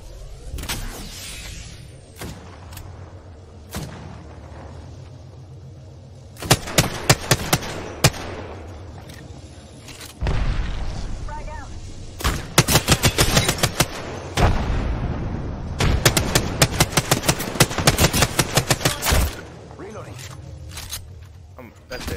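Rapid bursts of video game gunfire, some sharp single shots and some dense automatic volleys, crack loudly in clusters over a squad match, with players talking throughout.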